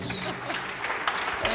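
Brief applause from the audience at the Baby Grand Jazz 2014 afternoon concert for Jane of the library, a dense clapping wash with a voice over it.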